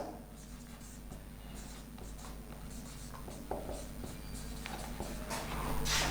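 Chalk or marker scratching across a board during a chemistry lecture, faint irregular strokes and taps over a low steady room hum, with a voice speaking quietly in between.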